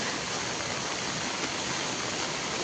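Steady rain pours at night as a dense, even hiss, close and continuous with no pauses or voices.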